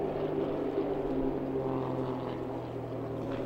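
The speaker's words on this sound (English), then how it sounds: "The Grob actually is quite a light aeroplane." A light carbon-fibre Grob aeroplane drones along in flight, its propeller engine giving a steady, moderately loud hum with a low tonal note that holds evenly for the whole stretch, no talk over it.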